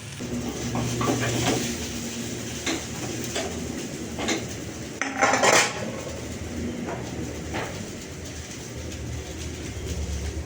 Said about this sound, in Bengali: ঢ্যাঁড়সটা ভাজা হয়ে গেছে, ঢ্যাঁড়সটা নামিয়ে নিলাম